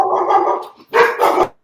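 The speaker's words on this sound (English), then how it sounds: "This dog just got excited, man." Excited dog barking loudly and close by, a sustained growly bark-howl followed by two further bursts of rough barking in quick succession.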